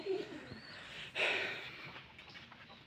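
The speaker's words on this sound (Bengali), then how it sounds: "এটা অনেক সুন্দর কবুতর।" Pigeons at a pigeon seller's in Charghat, Rajshahi, give a few soft, low coos nearby, faint against a quiet background.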